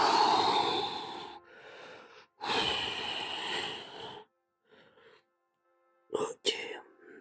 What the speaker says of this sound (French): Et on expire.